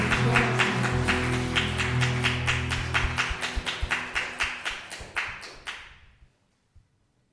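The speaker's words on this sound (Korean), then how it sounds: "감사의 마음을 같이 하나 박수로 시작하겠습니다." Rhythmic clapping from a church congregation at a Sunday worship service, steady sharp beats about three per second over sustained keyboard tones, thinning out and fading to silence near the end.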